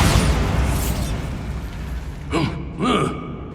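A Bombarda spell explosion in the Hogwarts Legacy video game bursts as a booming blast at the start and then fades, followed by two short vocal grunts from a character.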